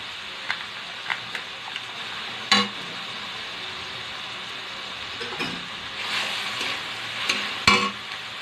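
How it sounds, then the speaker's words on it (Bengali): Ginger-garlic paste sizzles in a hot pan for chickpea curry, a steady frying hiss broken by sharp scraping stirs and occasional louder clacks of the spoon, close and alone. "এবার লাল লাল করে ভেজে নেব।"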